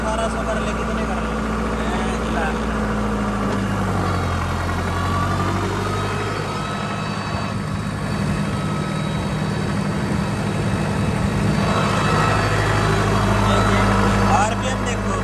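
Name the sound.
Sonalika turbo tractor engine running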